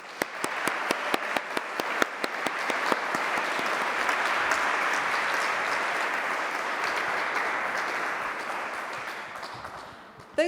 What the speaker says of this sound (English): massive round of applause to Gina Gardiner